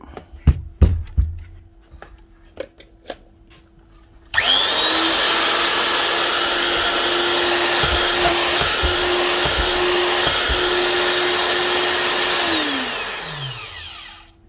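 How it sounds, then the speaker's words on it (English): An old Hitachi TR8 quarter-inch router, freshly fitted with a new plug, brushes and bearings, first gets a few sharp handling clicks. It then switches on with a loud, steady high whine for about eight seconds before winding down as the motor coasts to a stop. "One very old Hitachi quarter inch router TR8 with a new plug brushes and bearings"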